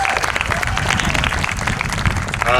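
An audience at a lakeside theatre festival applauds, lively clapping with distinct individual claps and some crowd murmur, fairly close and steady before fading toward a voice at the end.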